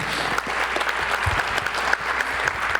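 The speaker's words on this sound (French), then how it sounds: "merci d'applaudir Christelle Breton-Ciré" Steady, dense audience applause at an association's annual general meeting as the treasurer is welcomed, filling the room evenly without talk.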